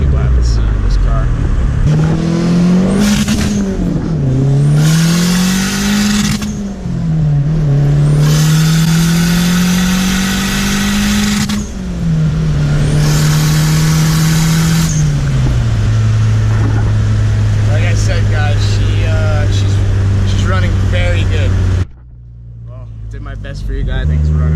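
Subaru WRX engine running under boost at about 18 psi, revving up and down through several loud rising and falling sweeps before settling into a steady idle, with someone talking over it.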